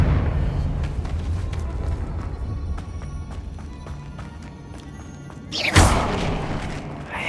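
Confringo fire spell blast in Hogwarts Legacy, a single loud burst about two-thirds through, rising out of a steady rumble of game ambience and clattering effects.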